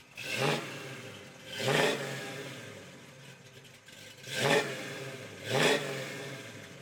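A Ford Mustang C-code V8 revs four times in separate bursts, each rising into a throaty roar and dropping back to a low idle, close and alone.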